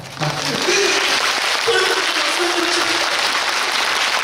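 Sustained applause from a crowd fills the whole stretch, dense and steady, with some voices or tones faintly audible beneath it.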